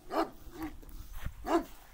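A large Dagestan wolfhound-type guard dog barks at people, three deep moderately distant barks with short pauses between them and no talk.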